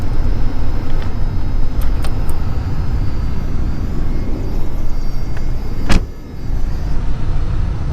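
Engine of a one-owner Toyota 4Runner turning over and idling steadily at close range, a dense broadband rumble with a brief sharp burst near the end.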